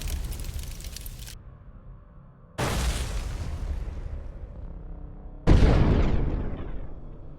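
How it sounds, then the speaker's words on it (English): Three heavy blasts destroying Russian tanks, each a sudden loud burst followed by a long rumbling decay; the last is the loudest and closest. "An explosion nearby leaves only remnants of Russian tanks."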